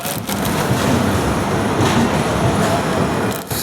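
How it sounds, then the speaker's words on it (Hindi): A Santragachi SF Express train pulls out of Tatanagar Junction with a steady, loud rumble of rolling wheels and rail noise that fills the whole stretch without any voices. "7:02 पर हमारी ट्रेन निकल रही है टाटा नगर जंक्शन से"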